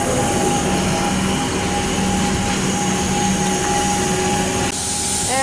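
A Melbourne suburban train departs Clayton station with a loud, steady roar of rolling wheels and motor, a sustained tonal whine running through the noise, close to the platform, with no voices.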